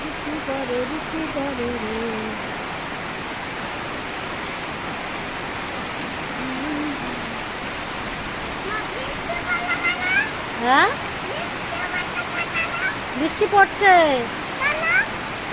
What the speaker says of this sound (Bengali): এই দেখো বৃষ্টি নেমে গেল